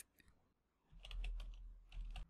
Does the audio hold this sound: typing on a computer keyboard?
yes